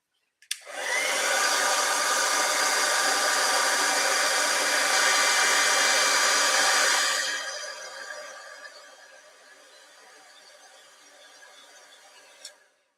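A heat tool blows a steady, loud hiss while melting embossing powder on vellum for papercraft, then eases to a quieter whoosh before clicking off.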